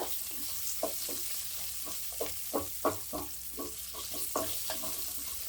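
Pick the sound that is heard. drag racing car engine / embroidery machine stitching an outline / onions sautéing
onions sautéing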